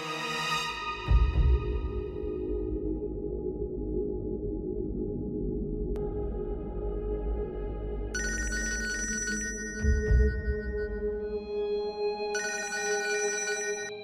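A telephone rings with a repeating electronic tone at steady intervals, fairly loud over a low background hum in an indoor drama scene, with no talking.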